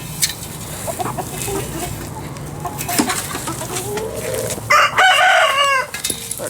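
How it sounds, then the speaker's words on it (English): A rooster named Big Red crows loudly and close by near the end of a pen full of birds, its harmonic call rising and falling over steady background clucking and bird chatter. "Definitely rooster."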